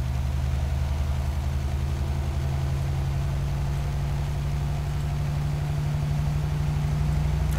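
Kenworth W900 truck in Euro Truck Simulator 2 holds a steady, deep engine drone while cruising a country road, with only a faint hint of turbo whistle above the rumble. It is continuous and even, with no talk.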